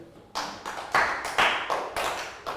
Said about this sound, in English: Round of applause for Nadia.